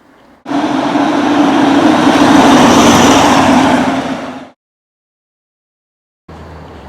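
A Hummer on the move fills the cabin with a loud, steady roar of engine drone and road noise for about four seconds. It cuts off abruptly, then returns more quietly after a silent gap.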